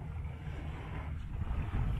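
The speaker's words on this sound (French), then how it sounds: "il nous arrive 18 nœuds de vent dans le nez" Wind of about 18 knots blowing head-on over a sailboat sailing at sea off the west coast of Sardinia, a low, steady rumble of wind and hull noise, faint and continuous.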